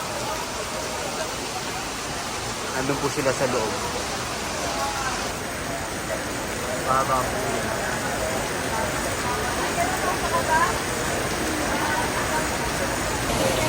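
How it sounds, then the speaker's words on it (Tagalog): Steady heavy rain pours throughout, a dense hiss of water with people talking nearby over it, near Binondo Bridge. "bumuhos na po ang napakalakas na ulan"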